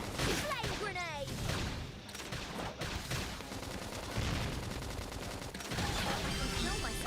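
Gunfire in Xenoblade Chronicles X combat: continuous rapid shots and bursts ring out under busy battle music and effects, with voices calling out amid the fight.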